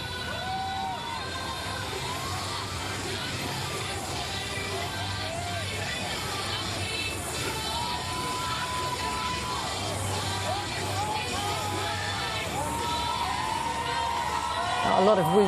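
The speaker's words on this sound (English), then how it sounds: "A lot of whooping and cheering." A predawn crowd greeting Hillary Clinton on her return to New York whoops and cheers through sustained background noise, with music playing and voices talking over it.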